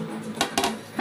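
A steel plate set down in a home kitchen gives a few short, bright metallic clinks within about a second, close and distinct.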